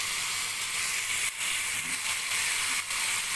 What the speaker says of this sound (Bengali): খুব ভালোভাবে মিশিয়ে একটু সময় ফুলকপিটাকে আমি মশলার সঙ্গে কষিয়ে নেব